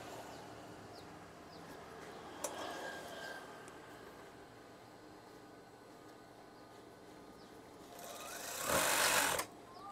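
A sewing machine stitches a folded fabric strip, a quiet steady hum for most of the span, then a louder, faster burst of stitching near the end.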